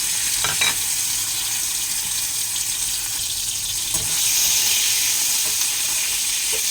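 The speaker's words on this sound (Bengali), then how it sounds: "গ্যাসে কড়াই বসিয়ে দিয়েছি, কড়াই গরম হয়ে গেছে, তেল গরম হয়ে গেছে, এবার এগুলোকে ছেড়ে দিই।" Green chilli, garlic and minced meat dropped into hot oil in a wok, giving a loud, steady sizzle with faint stirring clatter, continuous throughout and with no talking.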